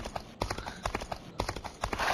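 Horse hooves clip-clop steadily in a video game, a brisk, continuous rhythm of hoof strikes, close and loud, with no talk over them.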